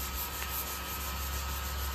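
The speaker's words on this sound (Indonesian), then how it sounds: "Oke, intinya kita amplas." Steady abrasive rubbing of sandpaper on a painted car body panel where fresh thinner lifted the old paint into soft patches, a continuous close scratchy hiss with no pauses and no voices.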